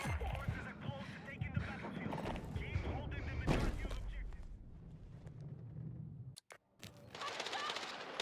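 Gunfire rattles in bursts during a first-person shooter video game, partly mixed with talking, then dies down and gives way to quieter game sounds.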